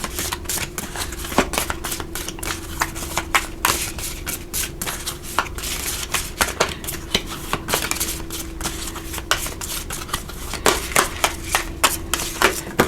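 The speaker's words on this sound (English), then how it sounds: "And I find this is the fun way to shuffle it instead of cards flying all over the place." A deck of tarot cards being shuffled by hand close up, a rapid series of crisp slaps and riffles in an uneven rhythm that runs throughout without talk.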